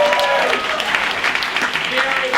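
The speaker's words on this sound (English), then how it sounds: "a round of applause for the venue," Audience applause for the venue at a live comedy show, a dense, steady patter of clapping throughout, with some voices mixed in.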